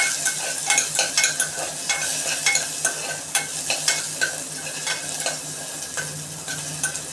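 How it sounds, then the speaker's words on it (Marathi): Halved green chilies frying in hot oil for a toddler's vegetable dalia, a close steady sizzle broken by the repeated scrape and clink of a spoon stirring through the pan. "थोडी तेलामध्ये फ्राय झाली का हिरवी मिरची आपण काढून घेऊया।"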